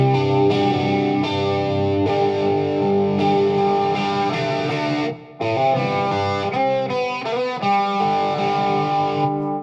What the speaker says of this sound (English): I'll just throw some distortion on top of that.